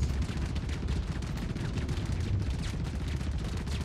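Rapid, continuous gunfire in Star Citizen, a dense loud stream of shots over a rumbling low roar, with no break for the full length.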